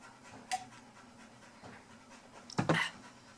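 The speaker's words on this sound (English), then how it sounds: "He's snoring." A dog snores and pants indoors, a few soft breaths early on followed by a louder, rougher snort near the end, close by and otherwise quiet.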